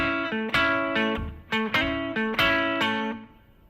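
Electric-sounding guitar plays a 12-bar blues riff with slides into notes, a repeating rhythmic figure of sliding and plucked notes, loud and close, fading out at the end.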